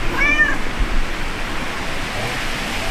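A small cat near a campsite trailer gives one brief, faint meow early on, half buried in a steady background hiss that continues afterward.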